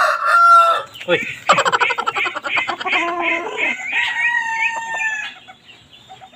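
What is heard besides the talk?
roosters crowing and clucking, Chinese Silkie chickens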